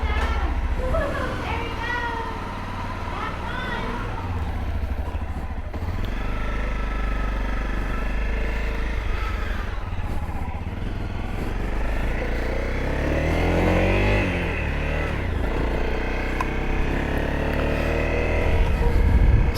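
A Honda CRF250L dual-sport motorcycle idles and pulls away in Louisiana, its engine a low drone running beneath fairly loud, continuous talking.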